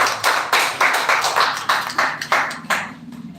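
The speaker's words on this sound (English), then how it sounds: "Yes, clap for him." A classroom of students claps for a classmate about to present, a loud, fairly steady burst of clapping with distinct rhythmic beats that tapers off after about three seconds.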